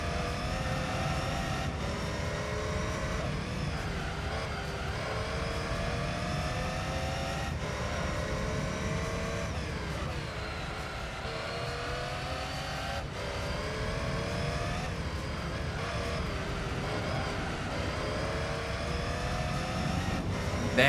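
Race car engines in Gran Turismo 3 during a Dream Car Championship race, closing on an RX-7: continuous engine whine with rising and falling revs and repeated gear-shift dips, loud and unbroken throughout.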